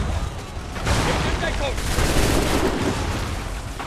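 Gunfire in the video game Assassin's Creed III rattles as a dense volley of loud, overlapping musket shots and booms, with a voice talking over the battle noise.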